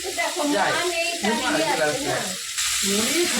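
Large jackfruit pieces frying in hot oil to a medium fry, giving a steady sizzle and crackle under a person talking throughout.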